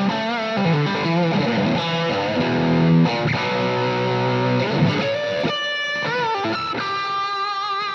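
Distorted electric guitar, a Stratocaster, played through an M1 delay pedal set to bypass with reverb on, ringing sustained bent notes and chords that trail off in reverberant tails, alone with no talking.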